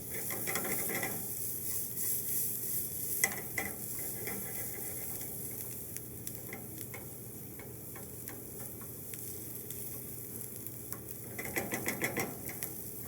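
Onions for a small Creole sauce frying and browning in a pan over high heat, a steady near sizzle and crackle broken by irregular clicks and taps of a utensil, with no talking.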